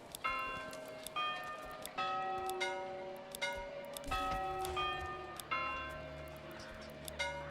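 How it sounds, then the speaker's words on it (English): Church-style bells ring in the medieval city-building game Manor Lords, struck again and again at a steady, quick pace. Each clear tone rings on over a soft background hum. "Give me a different bell sound that's slightly lower pitched"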